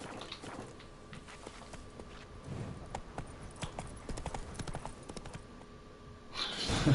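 Horse hooves in The Witcher 3 video game, a steady clip-clop of hoofbeats at a walking pace, faint under a wash of game ambience that swells at the end.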